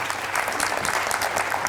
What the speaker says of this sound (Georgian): აპლოდისმენტები მარიამს